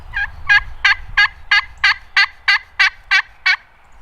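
A Longbranch turkey game call yelping loudly and close, eleven sharp evenly spaced notes in a steady rhythm with only a low rumble underneath.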